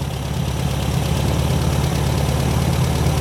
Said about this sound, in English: Feel hot air coming out underneath the engine, so the fan's obviously running.